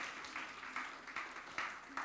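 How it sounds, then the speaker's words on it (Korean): Scattered applause from a small church youth group, soft and slightly distant, with a few bursts of clapping rising and fading over a couple of seconds. "박수 주세요."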